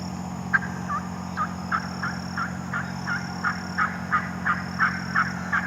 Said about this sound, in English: They gobbled late, and they quit gobbling early.